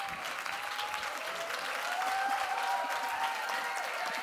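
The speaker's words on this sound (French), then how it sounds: "On les applaudit bien fort." An audience gives a warm round of applause at a community summit, a sustained, even burst of many hands clapping that swells slightly toward the end, heard alone without talk.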